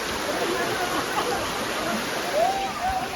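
Waterfall water at Abbi Falls near Sakleshpur rushes in a steady broadband roar from the top of the falls, continuous and fairly close, with a faint voice mixed in.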